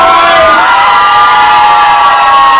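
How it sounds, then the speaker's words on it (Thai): A studio audience at a Thai anniversary TV show cheers and shouts loudly and continuously, with excited whoops and crowd noise rising together in a dense, sustained roar. "ขอเสียงปรบมือดังๆหน่อย"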